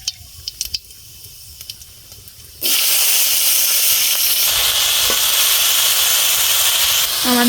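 Cut vegetables hitting a hot kadai on a village stove for chorchori, erupting into a loud, sustained sizzle and hiss that starts suddenly after a few quiet clinks and holds steady to the end.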